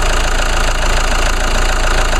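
A small 2-liter four-cylinder GM turbo diesel idles steadily up close, a continuous even engine rumble with no break and no voices.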